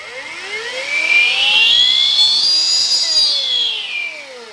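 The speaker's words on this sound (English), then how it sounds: "So I'm going to get this saw up to full speed. I'm going to kick it back at myself. You're going to see that rapid stop brake automatically fire off." Milwaukee MX FORGE 14-inch battery-powered cut-off saw whining up to full speed, its pitch rising to a loud, close, sustained scream, then dropping quickly as the rapid-stop brake engages.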